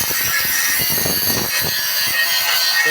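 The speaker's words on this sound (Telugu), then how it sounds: "మా వాడు గ్రైండింగ్ చేస్తాను చూడండి" A power tool grinds continuously at a construction site, a harsh, loud, steady rasping with uneven scraping pulses underneath throughout.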